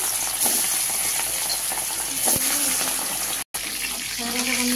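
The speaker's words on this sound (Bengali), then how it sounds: "আমার তেলটা গরম হয়ে গেছে, আমি এক এক করে মাছ দিয়ে দিচ্ছি।" Fish pieces frying in hot oil in a wok for a Bengali fish jhol, a steady close sizzle and crackle running throughout, with a brief dropout near the end and a few clinks and stirring sounds.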